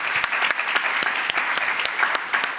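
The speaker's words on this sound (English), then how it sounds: "another round of applause for these fantastic panelists" Steady audience applause for a panel at an advertising and marketing event, many hands clapping evenly and fairly close throughout without a break.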